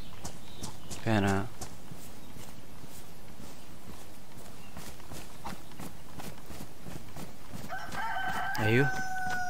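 Rooster crowing in the DayZ survival game, two separate crows heard: one near the start and a longer, clearer one near the end, moderately loud over a steady background.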